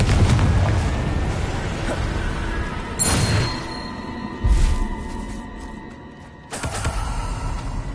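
Confringo blasting spell explosions in a Harry Potter wizarding video game, two sharp bursts a few seconds apart with a ringing tail, heard over ambient game sound.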